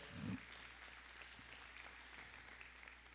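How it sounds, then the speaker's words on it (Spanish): Church congregation applauding during a Spanish-language service, a steady wash of clapping that swells briefly at the start and then holds evenly, soft and somewhat distant. "Denle un fuerte aplauso al Señor por eso."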